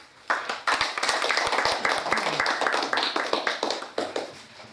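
Applause from the audience at a Korean community association's quarterly board meeting in Atlanta, a dense burst of many hands clapping that starts sharply and keeps up steadily for several seconds before thinning out.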